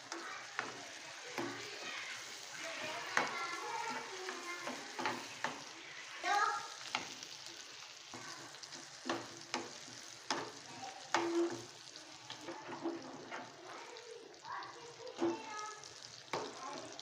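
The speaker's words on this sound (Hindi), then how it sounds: "ये प्याज मैंने देखे ब्राउन हो रहा है मेरा हल्का सा। इसके साथ इसमें हम अदरक लहसुन का पेस्ट है।" Onions fry in a pan with coarsely ground ginger-garlic paste for mutton paya, a steady soft sizzle with repeated stirring scrapes and clinks, under intermittent talk.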